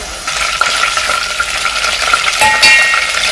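Ginger and garlic paste sizzles hard in hot cooking oil, a bright steady crackle with quick stirring scrapes across it, close and loud with no voices.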